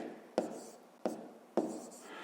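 A pen writes numbers by hand on paper, three quick scratchy strokes each starting with a sharp tap, close and quiet, with no voices.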